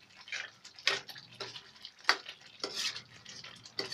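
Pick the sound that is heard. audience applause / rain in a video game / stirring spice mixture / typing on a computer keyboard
stirring spice mixture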